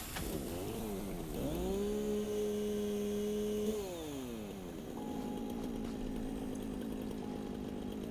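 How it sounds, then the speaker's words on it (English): Chainsaw in the video game Satisfactory running steadily, its engine pitch rising and falling through several revs before settling into a continuous drone with a faint hum underneath. "I think it's time for chainsaw."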